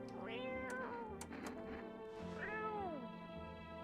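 Two drawn-out meows from a cat in a video game, one near the start and one after a pause, over a steady musical hum with a few soft clicks between them.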